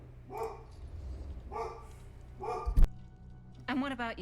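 A dog barking in a home; three evenly spaced, moderately loud barks roughly a second apart, followed by a sharp thump and a brief whine-like tail with a low hum underneath.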